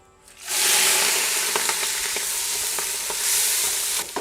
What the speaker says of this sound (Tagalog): Pwede na natin lagay yung balat ng hipon natin.